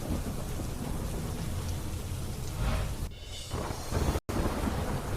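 Heavy rain pours steadily at Yamunotri in Uttarakhand, a dense loud wash with deep thunder rumbling through it and swelling near the end, broken by a brief dropout.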